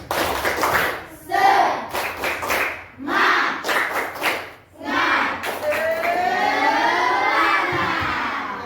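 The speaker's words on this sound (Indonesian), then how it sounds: "Satu kali tepuk semangat" A classroom of children claps a rhythmic 'tepuk semangat' cheer in a few bursts, with shouted chanting mixed in, ending in a sustained cheer.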